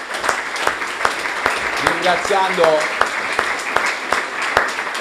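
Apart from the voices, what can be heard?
audience applause for the professor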